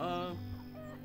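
Chicken clucking and squawking in the video game Farm Manager 2018, a short burst, close and fairly loud, with a low hum underneath.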